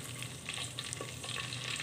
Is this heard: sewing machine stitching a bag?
no